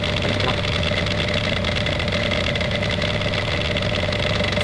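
A diesel engine with a broken turbocharger and upgraded electronics runs steadily just after startup, a loud, continuous idling rumble with knocking texture and a faint whine throughout.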